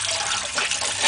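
Water runs from a tap in a steady hissing stream, close and fairly loud, with no voices.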